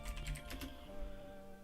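Short flurry of computer keyboard taps up close, a handful of quick clicks that trail off into a steady background hum.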